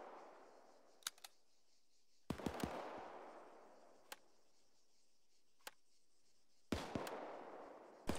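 Scattered sharp gunshots in ArmA 3 crack at a distance, single reports and short bursts with quiet gaps between, against a faint background hiss.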